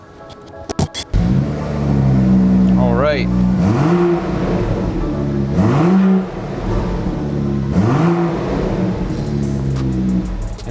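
A car engine cranks and catches after a low pressure fuel pump install, then revs up three times in quick rising sweeps before settling to idle, close and loud, with a brief spoken remark at the start.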